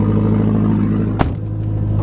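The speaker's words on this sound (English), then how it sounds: "oh, now it's revving down a little bit" A Mazdaspeed3 fitted with a bigger turbo idles loudly nearby with a deep, steady rumble, a short clunk breaking in midway before the drone settles slightly lower.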